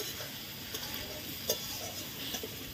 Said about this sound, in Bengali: আর এখন বাঁধাকপিগুলো দিয়ে দেবো, একটু নেড়ে নিচ্ছি